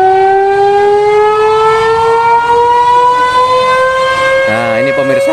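An old Dutch-era war siren in Blora's town square, sounded to signal the end of the fast, holds a loud steady wail that rises slowly in pitch. A warbling tone enters near the end.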